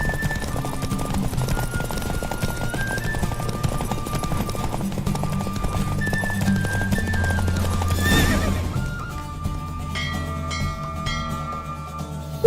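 Galloping horse with repeated neighs and whinnies during a race in the video game The Witcher 3, the hoofbeats steady and close over a busy game soundtrack, a bright whoosh swelling near the end.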